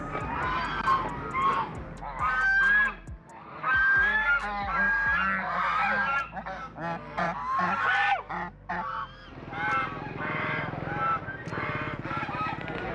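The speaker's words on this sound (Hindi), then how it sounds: "क्या आपको पता है बत्तख क्यों चिल्ला रहा है?" Geese or ducks honk loudly and almost nonstop in a Ghaziabad city forest, a dense flock of overlapping nasal calls close by, with someone talking in between.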